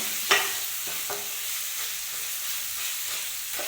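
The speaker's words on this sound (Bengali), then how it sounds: "এখনো ভাজা হয়নি ঠিক মতো, ভাজা হচ্ছে, কাজ জোর করে আমি আনাজগুলো আগে ভেজে নিচ্ছি।" Chopped vegetables and grated carrots stir-frying in a pan for a chicken momo filling give a steady soft sizzle, with a few sharp clinks and scrapes of stirring near the start.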